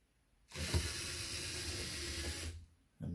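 Water from a LEGO EV3 firefighting robot sprays steadily for about two seconds onto a candle flame, a loud close hiss that starts and stops abruptly.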